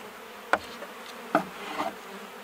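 Honey bees buzz around an opened hive with a heavy, honey-laden lid and a few beetles present, a soft steady hum broken by two sharp close passes of a bee near the ear.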